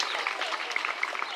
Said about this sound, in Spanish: Un fuerte aplauso para el 53 Batallón de Infantería